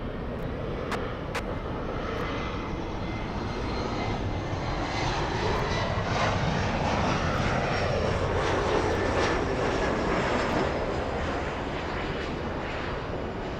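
A fixed-wing airliner landing at Los Angeles International Airport, its engines a steady, loud broadband roar that swells gently and holds throughout, with no talk.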